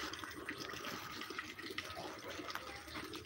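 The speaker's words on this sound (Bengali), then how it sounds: "আরে কলে জল এসে গেছে কত জোরে" Tap water gushing strongly from a household tap, a steady hissing rush of water at a low level.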